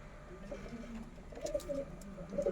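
Pigeons of the Kaldam breed coo softly in a quiet setting, a few low murmuring calls rising toward the end at close range.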